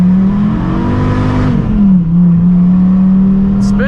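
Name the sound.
Dodge Viper V10 engine revving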